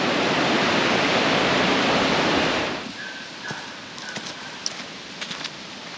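Dense roar of rushing water from Gooseberry Falls, Minnesota, fills the first few seconds, then drops away to quieter ambient sound with a few faint clicks and tones.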